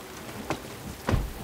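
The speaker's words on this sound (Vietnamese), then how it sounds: "Mưa to quá." Heavy rain pours down in a steady, close broadband hiss, with a couple of louder splashing surges over its brief length.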